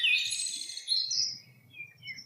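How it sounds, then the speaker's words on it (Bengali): Small birds chirp in a treetop in late afternoon, a few bright, high tweeting calls close by in a quiet setting, one longer burst followed by shorter, fainter chirps. "গাছের মাথায় পাখিদের কিচিরমিচির ডাকে"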